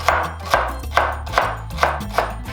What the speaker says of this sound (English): Now chop the celery.